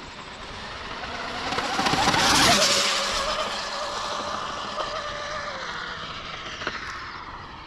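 An Arrma Limitless RC car makes a high-speed pass, its whine building to a loud peak as it rushes by near the middle, then fading into steady outdoor background noise.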